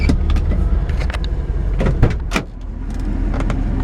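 A 1975 Camaro engine idles steadily with a low rumble through a rusted-out original exhaust, punctuated by a few sharp clicks and knocks nearby.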